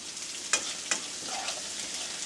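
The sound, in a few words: frying tomato and onions in oil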